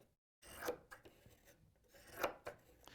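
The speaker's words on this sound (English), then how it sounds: "You can hear the serrated edge." Serrated scissors slicing through fabric, two short rasping cuts that crunch up close, separated by a pause.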